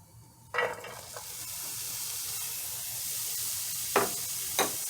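Green pepper, onions and minced garlic sautéing in olive oil, a steady close sizzle throughout, with a loud splash as the vegetables hit the pan and a few scraping stirs of a utensil.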